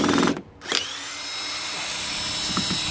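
A power drill in low gear runs steadily to loosen torqued screws on a dishwasher, loud and close, with a brief break near the start before the motor spins back up and holds a continuous whine.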